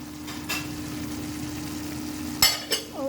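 Onions fry in a pan for pork lomo with black bean garlic sauce, giving a low, steady sizzle under a constant hum, broken near the end by a couple of sharp clatters from utensils.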